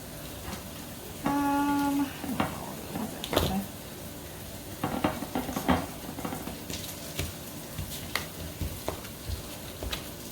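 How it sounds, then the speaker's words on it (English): Onions and garlic sautéing slowly in a pan, a quiet sizzle broken by scattered clinks and scrapes of stirring, with one brief tonal beep near the start. "Saute those onions and garlic slowly because you don't want your garlic to burn"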